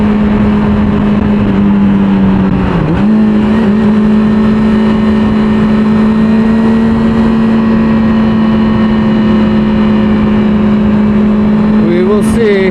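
A sport motorcycle engine drones steadily at cruising speed, briefly dipping around a quick gear change, then settles back and climbs slightly near the end, with constant wind rush throughout.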